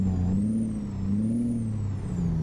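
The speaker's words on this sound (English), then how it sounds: "It's another engine sound." A simulated Peterbilt 377 truck engine, apparently a Caterpillar 3406 diesel, in American Truck Simulator drones steadily with gently rising and falling revs, a close, even rumble with a faint high whine and no talk.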